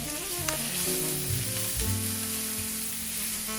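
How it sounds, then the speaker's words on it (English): Thinly sliced onions brown in a pan, giving a steady close sizzle and crackle with no talk, under a background of mixed tones. "we want to slowly brown these onions until they're tender and caramelized"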